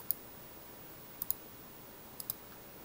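A computer mouse clicks sharply a few times, in short single and paired clicks, alone in a quiet room.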